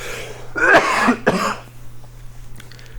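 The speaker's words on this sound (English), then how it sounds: "I have to cough" Two or three harsh coughs in quick succession, close and fairly loud, followed by quiet.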